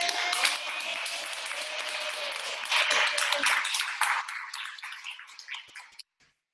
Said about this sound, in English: round of applause for the graduating class